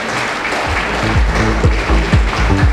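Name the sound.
audience applauding to honor the chairperson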